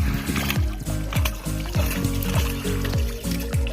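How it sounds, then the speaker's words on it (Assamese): River water splashes and trickles as someone in a village setting washes hands and feet from a boat, with repeated rhythmic scooping and pouring sounds up close. "এতিয়া মই হাত ভৰি ধুওঁ।"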